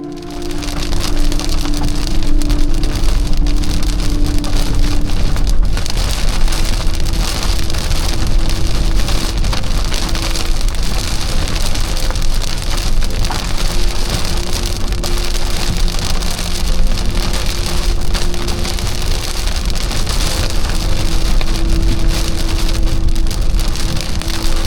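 Heavy summer storm rain pours steadily and loudly onto surfaces, a dense unbroken hiss lasting throughout with no voices.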